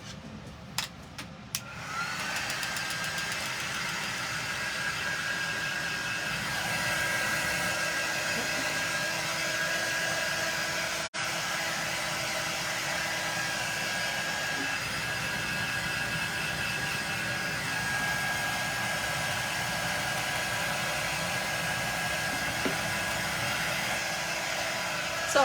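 A hair dryer blows steadily to dry wax on a small craft mailbox, a continuous close airy whir with a faint tonal whine that runs unbroken after a few handling knocks at the start.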